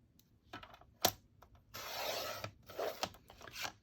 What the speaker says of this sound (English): so I'm gonna go ahead and cut it a little bigger.